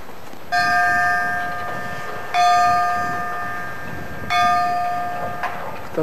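Bells ring out at a golf club in Villa Mercedes, San Luis, Argentina, with three loud metallic strikes spaced about two seconds apart, each leaving a long, shimmering ring that fades slowly.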